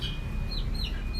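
A chicken clucks and chirps in short, high calls over a thick outdoor background, brief and fairly close.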